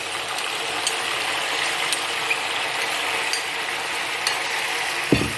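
Sliced tomatoes frying in fish sauce in a pan, a steady bright sizzle with occasional clicks and taps of a stirring utensil and a sharper knock near the end, no voices.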